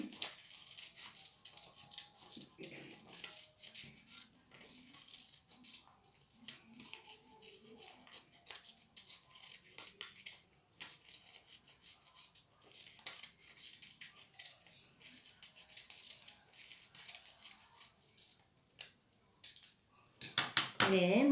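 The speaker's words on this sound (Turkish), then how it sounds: "Şimdi de mor çiçeğimi kesiyorum." Scissors snip around a purple paper flower in a children's craft class, a quiet, steady run of small crisp cuts up close, ending in a louder rustle.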